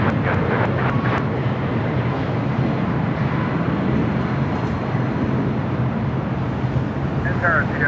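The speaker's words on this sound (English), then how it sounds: "calling a Super A380 on 3-mile final" Airbus A380 on final approach landing at LAX, a continuous loud roar of jet engines and rushing air, steady and close, with a few faint clicks near the start.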